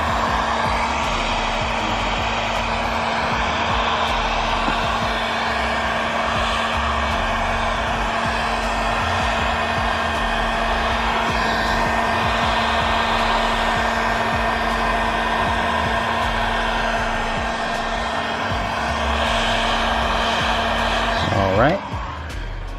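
A heat gun on a low setting warms the grille of a 10th-generation Honda Civic, blowing with a constant loud whirring drone and a steady hum for over twenty seconds before a brief clunk near the end.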